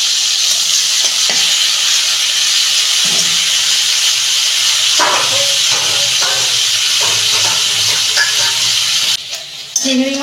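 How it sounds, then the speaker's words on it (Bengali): Prawns frying in hot oil in a home kitchen, giving off a loud, continuous sizzle and hiss with intermittent stirring scrapes and clatters. The sizzle dips briefly near the end. "তেল গরম হয়ে গেছে, মাছটা ভেজে নিচ্ছি।"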